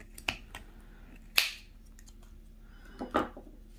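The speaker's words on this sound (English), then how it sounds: "you're going to start snipping all the way around. So you want good sharp scissors." Sharp scissors snip through yarn wrapped around cardboard pieces for a knitted baby hat pom-pom: a few crisp, isolated cuts spaced apart, close and fairly quiet against a soft room background.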